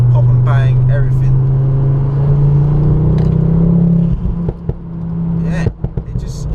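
A Ford Focus ST engine idles with a deep, steady exhaust drone, close by, while people talk over it; the rumble drops off near the end.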